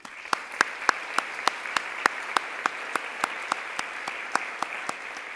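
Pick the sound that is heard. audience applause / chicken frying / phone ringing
audience applause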